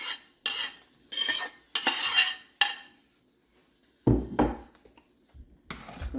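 A spoon stirs vegan sausage and chick'n into a rice mixture in a pot, scraping and clinking in several separate bursts with short quiet gaps and some duller thuds toward the end.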